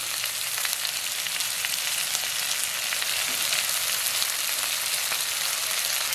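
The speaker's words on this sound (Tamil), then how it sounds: "அதை நாங்கள் நல்லா கொதிக்க விடுவோம்." A steady, dense sizzling and bubbling from a pot of shark curry with curry leaves boiling on heat, continuous throughout with no voices.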